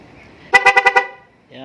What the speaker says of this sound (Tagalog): Yan, BOSCH horn.